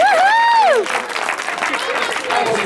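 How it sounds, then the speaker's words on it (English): Wedding guests break into applause during a groom and best man speech, a warm burst of clapping from the crowd indoors that follows a brief spoken voice. "Applaud yourselves."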